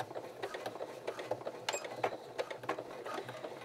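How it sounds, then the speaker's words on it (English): A home sewing machine stitches down a welt pocket, a quick mechanical needle chatter running in short bursts with brief pauses, close and moderately loud, with no one speaking. "I'm just going to start at the top, making sure I backstitch, and sewing all the way"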